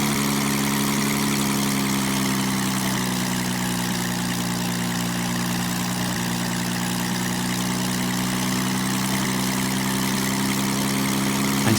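A steady, loud airplane engine drone in a video game during landing, a constant low hum with a propeller-like tone that holds unchanged throughout, with no talk.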